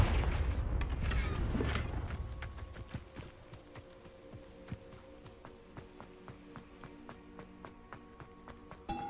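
A Confringo fire spell blasts in Hogwarts Legacy with a loud burst lasting about two seconds. A long run of sharp, evenly spaced taps or clicks follows, fainter and closer.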